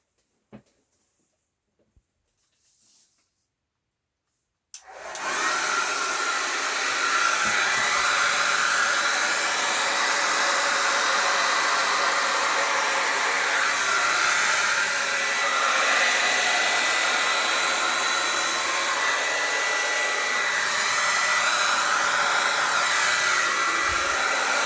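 A hair dryer blows steadily across poured acrylic paint in a Dutch pour, switching on abruptly after a few quiet seconds of faint handling clicks and then running loud and continuous to the end.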